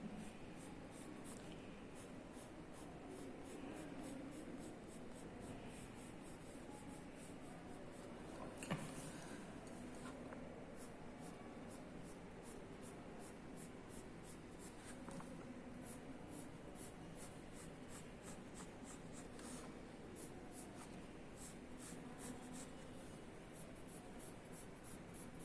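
A pencil sketches outlines on paper, giving a faint, continuous scratchy rubbing with steady repeated strokes and one brief louder tap, up close and without speech.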